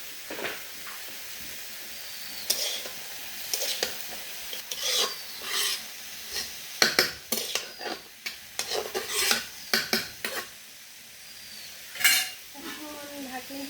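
A spoon scrapes and stirs curry with coriander powder in a metal pan, repeated irregular rasping strokes and clinks at close range, with a light sizzle underneath.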